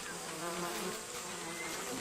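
Dense, steady buzzing of many bees swarming close together, a continuous loud drone with no pauses.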